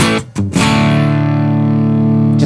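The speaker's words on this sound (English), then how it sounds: "This is how it sounds, just totally raw." A Gibson Les Paul electric guitar played raw through an amp set on the edge of breakup: two quick muted strums, then one full chord left to ring out loud and sustained.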